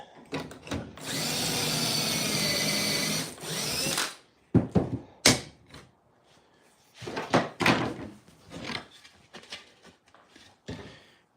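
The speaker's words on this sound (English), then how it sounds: "Drill mode." A power drill driving screws into cabinets whines loudly for a few seconds, then falls silent, followed by several sharp clunks and knocks of handling.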